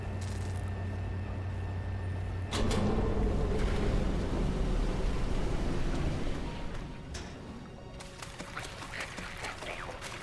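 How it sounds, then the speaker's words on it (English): Water in the video game Penumbra: Requiem makes a low, rumbling, churning wash with sudden surges and sloshing, loud and continuous before settling into a quieter bubbling murmur. "Water is not supposed to make that sort of sound, is it?"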